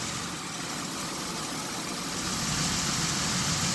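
A salvage car's engine idles smoothly and quietly, a steady low hum running unchanged throughout with no voices.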